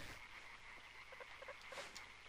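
Frogs croak faintly in a video game, a soft, steady chorus of short repeated calls over quiet ambient noise, with no talking.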